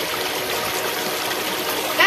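Steady broadband rush of water pouring and trickling in an open field during fishing, continuous and fairly close, with a brief splash at the very end.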